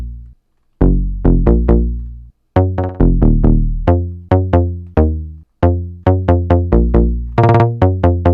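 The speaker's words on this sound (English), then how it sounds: "And then the important one is the pluck, and it sounds like this." Punchy synth plucks in a rhythmic pattern, each short note decaying quickly, with brief gaps between phrases.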